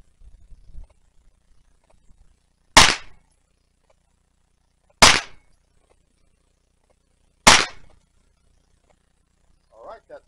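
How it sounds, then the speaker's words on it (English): Three sharp gunshots from a handgun fitted with a red dot sight crack out at an outdoor shooting range on a sunny day, evenly spaced a couple of seconds apart, each loud with a short decay, with faint voice sounds at the start and end. "That's three shots."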